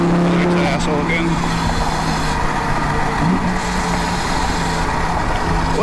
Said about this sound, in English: is that a Ferrari or is that a Lamborghini or what?